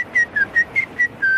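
A person whistles close by, a quick series of about seven short, clear notes at a steady rhythm, the last one held a little longer.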